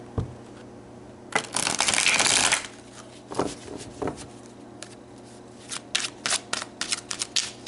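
Tarot cards are shuffled close by: a dense riffling burst lasting about a second, a few sharp snaps, then a string of quick light card slaps and flicks, with no talking.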